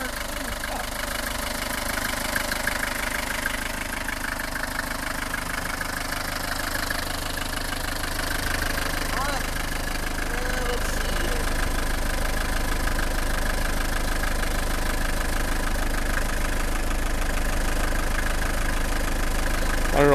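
An old Mercedes 240D diesel engine runs steadily at idle after two years unused, a continuous rough clattering drone that holds level throughout with a faint knock beneath it.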